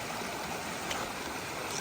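Rattle River, a mountain stream along the Appalachian Trail, rushes with a steady, dense broadband flow, close and continuous with no voices.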